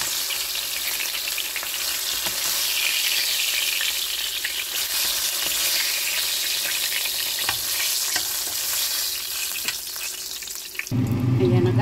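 Red mullet fish frying in oil gives a loud, steady sizzle throughout, with a brief clatter near the end as the pan is handled.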